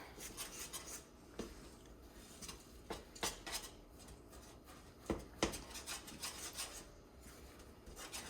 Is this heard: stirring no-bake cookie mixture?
yes